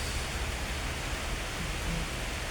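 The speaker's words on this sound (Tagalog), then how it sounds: "Lumakas ang ulan na naman." Heavy rain pours steadily over crops and banana plants in an open field, a dense, unbroken hiss of droplets that holds at the same close, loud level throughout.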